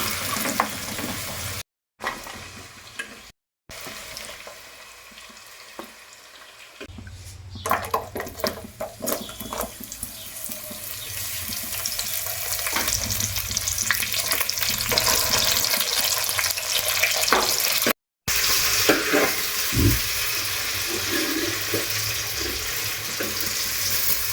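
Flat broad beans (chikkudukaya) frying in hot oil in a pan, a steady dense sizzle that swells louder midway and continues with clatter from stirring, a few brief gaps where it cuts out.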